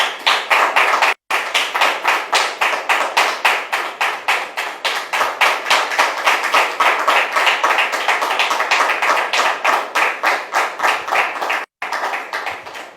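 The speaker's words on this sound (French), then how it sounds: "Public, merci de la recevoir maintenant avec vos applaudissements." French TV talk-show studio audience claps in a fast, rhythmic unison beat, loud and close, with two brief dropouts breaking the steady pulse.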